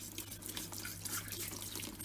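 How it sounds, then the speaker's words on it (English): A washing machine filter is scrubbed with a toothbrush in hot soapy water. Close, continuous wet brushing and sloshing splashes carry through the brief moment. "give that filter a really good clean using hot soapy water"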